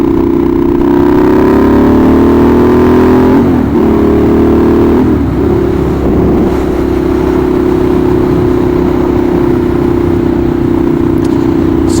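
Ducati Monster 1200 R motorcycle engine, its V-twin taken from the Diavel, runs loud and close with a steady throaty drone, revving up briefly twice before settling back to a constant hum.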